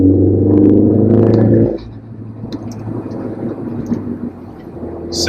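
A Mini Cooper fitted with a newly replaced upper motor mount on a test drive, its engine droning loudly and steadily before easing into a lower, quieter rumble of tyre and road noise.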